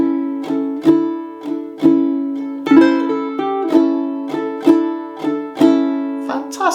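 Ukulele blues in A, close and clear, steady rhythmic strums with plucked sus4 flourishes between chords, played alone without talk.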